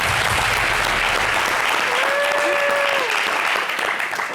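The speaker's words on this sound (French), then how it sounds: "S'il vous plaît, applaudissez pour moi ça." Loud, steady applause from a TV studio audience, with a sustained whistle or cheer rising through the middle before the clapping tapers slightly.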